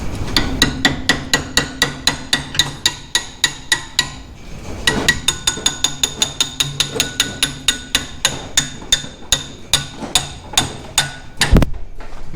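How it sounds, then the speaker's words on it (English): A hammer taps a steel sleeve into a part during a RZR 800 rebuild, sharp ringing metallic strikes in a steady rapid rhythm, loud and close, with a brief pause midway and no talking. "with a hammer"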